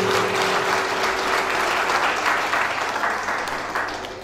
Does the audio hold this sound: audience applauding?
yes